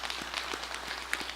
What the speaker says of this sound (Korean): 우리 시온 찬양대 여러분 격려의 박수를 한번 보내주시면 좋겠습니다